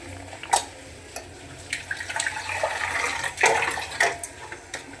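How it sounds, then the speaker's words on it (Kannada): Tea strained and poured into cups in a home kitchen, a thin liquid trickle with soft clinks and splashes, moderately close and fairly quiet, no talking. "ಟೀ ಸೋಸಿ ಟೀ ಕೊಡ್ತಾ ಇದ್ದೀನಿ, ಹಾಗೆ ನಾನು ಸೋಸ್ಕೊತಾ ಇದ್ದೀನಿ"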